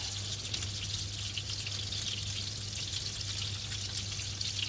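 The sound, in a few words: meatballs shallow frying in oil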